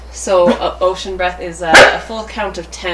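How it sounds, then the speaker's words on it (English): Dogs bark repeatedly in short, close, loud yaps at a busy home yoga session, scattered across the moment while someone speaks calmly over them. "Sorry for the barky dogs."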